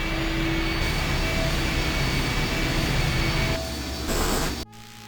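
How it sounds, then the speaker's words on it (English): A loud, steady mechanical engine drone in I Have No Mouth, and I Must Scream runs with a constant tonal hum. It shifts near the end and then cuts off abruptly, leaving a quieter tail. "The engine's starting up again."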